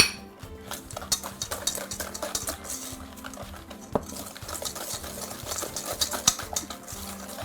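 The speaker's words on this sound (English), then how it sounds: "And mix it till it's combined." A utensil scrapes and clinks rhythmically against a bowl as sugar and eggs are stirred by hand, quiet and close, with no voices.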